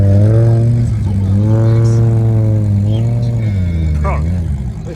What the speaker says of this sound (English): 2 S1 next to each other, racing up a ski slope